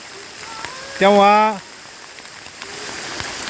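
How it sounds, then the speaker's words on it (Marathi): Steady, heavy monsoon rain pours down at Ratangad in a dense, continuous hiss, with a voice speaking briefly over it. "पाऊस, जोराचा पाऊस सुरू झालेला आहे"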